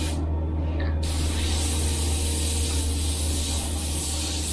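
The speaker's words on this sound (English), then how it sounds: "we'll just keep spraying until we get some other style of colour coming out of this brush." A continuous airbrush spray hisses steadily with a low compressor hum underneath, briefly interrupted at the start.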